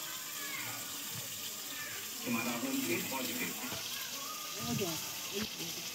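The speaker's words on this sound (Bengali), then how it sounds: "দেখো মাছগুলো এইভাবে ভেজে নেবো সব" Bata fish sizzles in hot white vegetable oil over a wood-fired stove, a steady close hiss that runs the whole time while a voice talks over it in short stretches.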